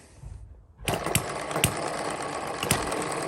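A small model hit-and-miss engine starts up on a miniature homemade dynamometer, settling into a close, steady mechanical chatter with sharp periodic firing clicks.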